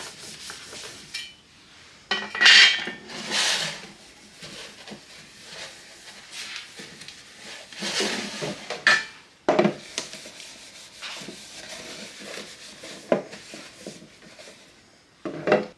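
Metal bread pans and their lids, a 1 pound and a 2 pound loaf pan, are rubbed with coconut oil and shifted about, giving soft intermittent scraping, rubbing and light knocks at close range.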